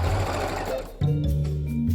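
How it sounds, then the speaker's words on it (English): A sewing machine stitching elastic runs loud and close with a fast, continuous mechanical chatter, and its pace shifts about halfway through. "give it a couple of stitches, pull out your pin, and stretch the elastic"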